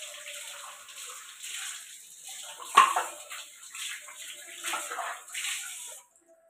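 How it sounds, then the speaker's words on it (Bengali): Water runs from a tap while a cup is washed in a kitchen sink, a steady splashing hiss with occasional clinks and sharper splashes, before the flow stops abruptly near the end. "কাপটা ধুই।"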